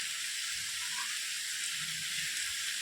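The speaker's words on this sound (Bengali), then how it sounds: "এবারে এর মধ্যে দিয়ে দেবো ফ্রেশভাবে ধুয়ে রাখা চিকেনগুলো দিয়ে দিলাম। ভালো করে মশলার সঙ্গে মিশিয়ে নেব।" Washed chicken pieces added to fried spice paste for a chicken curry sizzle with a loud, steady hiss heard up close throughout, with no voices.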